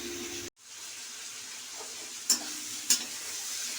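Ripe pointed gourd frying in a pan, giving a steady, faint sizzle with a brief break early on and two sharp utensil clinks against the pan.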